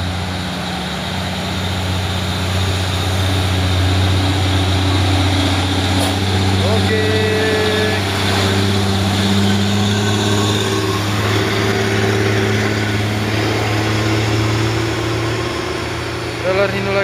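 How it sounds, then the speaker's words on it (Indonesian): A Hino trailer truck hauling a shipping container grinds up a steep hill, its engine a loud, steady low drone that holds for the whole stretch, with voices faintly under it. "Trailer Hino lagi, satu ini lagi, trailer bawa kontainer dah bosku."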